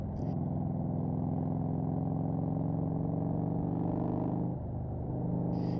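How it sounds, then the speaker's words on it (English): A motorcycle engine rumbles low and steady, a continuous close drone with a slight dip near the end and no speech over it. "The engine's still rumbling beneath you"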